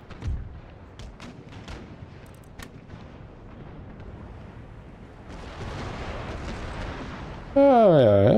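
Naval cannon fire in the Empire Total War naval battle, Darthmod, with Sweden on very hard: muffled booms and rumbling blasts repeat under steady talk, then a denser roar builds and a loud synthetic sweep closes.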